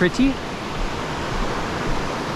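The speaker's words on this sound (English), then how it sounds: "Sulphur Creek crossing, pretty." Sulphur Creek flows at a trail crossing on the Railroad Grade route up Mount Baker, a steady broadband rush of water, with a brief voice at the very start.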